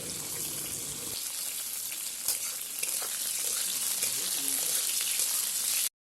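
Eggplant and chilli frying in a pan, sizzling and crackling steadily. Scrapes and stirring knocks from a spatula come through, and the sound grows slightly denser before stopping abruptly.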